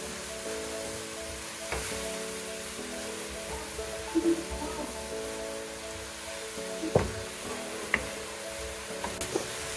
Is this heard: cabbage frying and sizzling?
yes